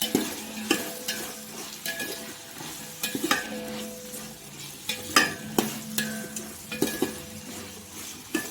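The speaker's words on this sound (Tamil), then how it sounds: "எல்லா காயும் சேர்த்து நல்லா அந்த எண்ணெயில் ஒரு வாட்டி நல்லா வதக்கணும்" Vegetables sauté in hot oil for vegetable biryani, a continuous sizzle under frequent metal spoon scrapes and clinks against the pot, close by and without speech.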